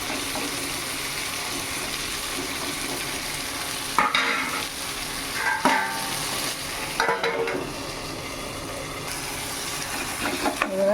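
Tomato gravy fries and sizzles in oil in a pan while a spoon stirs it, a steady close hiss with scraping strokes and small bursts at intervals, no talking.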